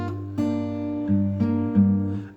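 Fingerstyle acoustic guitar plays bar three of a song, a sustained bass note under plucked treble notes with a few soft chord changes, close and clear with no talking.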